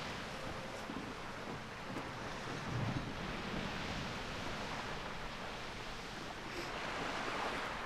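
Ocean waves wash steadily around a ship sailing past Darkshore in World of Warcraft, a faint continuous surf and wind hiss with gentle swells and no voices.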